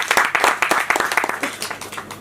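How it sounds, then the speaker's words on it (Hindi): An audience at a music video launch event claps in a brief burst of applause that starts loud and tapers off over about two seconds. "इनके लिए एक बार जोरदार ताली दीजिए।"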